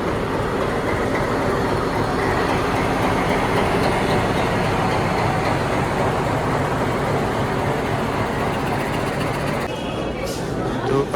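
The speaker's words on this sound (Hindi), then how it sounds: "ये ट्रेन आ रही है यहाँ से, देख सकते हैं आप।" The Ooty toy train rolls past with a continuous loud rumble and clatter of wheels on track, close by and steady throughout.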